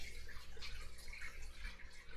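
Aquarium air pumps running at full capacity push a steady, soft bubbling and gurgling of water, continuous and fairly quiet throughout.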